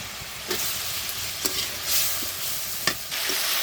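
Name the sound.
potatoes frying with spices in oil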